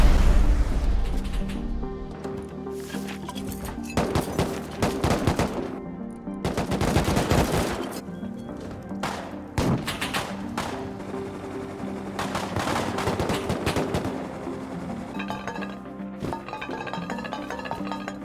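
Gunfire in the video game Rust: repeated loud bursts of rapid automatic shots mixed with single cracks, some metallic clinks and a deep boom at the start, continuing in waves.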